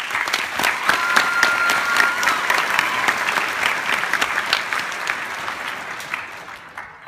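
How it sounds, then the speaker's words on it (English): At a Class of 2015 graduation, an audience claps for counselors, coaches and families. The applause is loud, with sharp individual claps standing out near the front, and it thins gradually toward the end. "Let's give them another round of applause."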